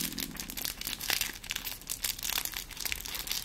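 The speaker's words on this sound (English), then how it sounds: "Which side do you hear? Crinkly paper." Crinkly paper crumpled close up in an ASMR session, loud rustling crackles for a few seconds with no talk.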